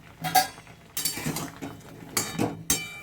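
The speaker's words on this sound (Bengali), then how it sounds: "এটাকে আমি আবার দু মিনিটের জন্য চাপা দিয়ে দিচ্ছি" A metal lid is set over a pan of eggplant cooking with salt on a home stove, giving several clinks and scrapes of metal on metal, close and moderately loud, spaced irregularly.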